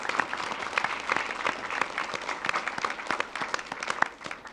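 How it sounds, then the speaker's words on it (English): Audience applause at a school district board of education meeting for Ochre Hills supporters, dense steady clapping from a roomful of people, moderately loud and continuous without talk. "I'd love to give you a round of applause."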